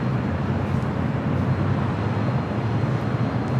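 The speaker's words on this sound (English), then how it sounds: "Next takeoff here on the north side. Delta Airlines Flight 2074 heading to Minneapolis. The 757 at 200." A Delta Boeing 757 taking off from the north side runway at LAX, its engines making a steady, broad roar that holds at an even loudness throughout.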